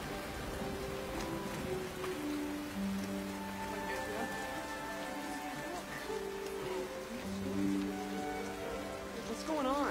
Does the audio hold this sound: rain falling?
yes